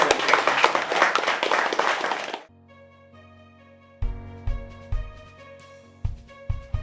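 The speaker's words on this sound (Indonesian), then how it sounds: "kita berikan aplaus untuk kita semua" Dense burst of audience applause for a couple of seconds at the close of a talk, then it cuts off into quiet ringing tones and a few sharp tapped hits.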